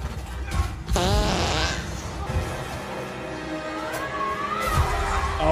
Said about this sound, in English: He just farted on her.